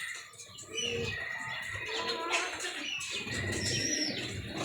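A pigeon coos nearby in soft repeated calls, mixed with chirps and light fluttering against a busy background.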